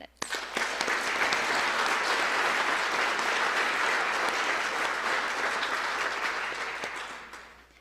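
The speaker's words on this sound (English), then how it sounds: "Would you all please join me in giving another round of applause for all of our amazing candidates?" An audience at a university honors banquet gives a full, steady round of applause that starts sharply, holds dense and loud for several seconds, then thins out at the end.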